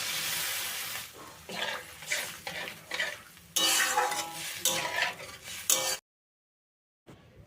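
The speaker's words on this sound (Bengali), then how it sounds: "এবার এতে দিয়ে দেবো পরিমাণ মতো জল" Water goes into a pan of cauliflower and potato samosa filling, followed by rough stirring. Splashy, sloshing scrapes come in uneven bursts for about six seconds, then the sound cuts to near silence. No one speaks.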